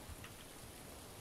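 Steady rain falls softly in a faint, even hiss, with no voices and only slight swells of patter.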